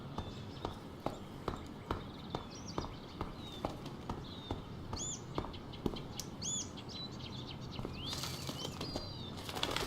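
Bird in a video game flapping its wings in a run of quick, regular beats, with a few chirps over faint background ambience.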